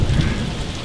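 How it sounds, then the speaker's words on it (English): Steady heavy rain pours down in Florida during an outdoor barbecue cook, a dense, continuous hiss of drops on surfaces, close and loud with no talking. "welcome to sunny Florida, where of course it is raining"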